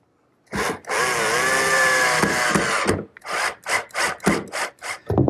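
A power drill whirs as it drives 2 1/4-inch screws into wooden table rails, starting with one long continuous run and then breaking into a series of short bursts.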